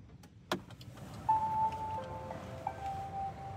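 A Fiat 500e electric car powers on with a soft click, then clear electronic chime tones sound one after another over a low steady cabin hum, close and fairly quiet.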